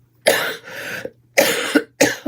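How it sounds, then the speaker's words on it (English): A person coughs three times in quick succession, each harsh, loud and close, with short silent gaps between. "one more cough to just get it out of the way"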